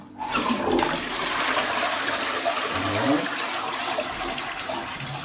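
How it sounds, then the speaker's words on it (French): A household toilet being flushed after repair work: a loud, close rush of water starts abruptly and pours steadily for several seconds, gurgling as it drains. "Je vais tirer la chasse et voir ce que ça donne."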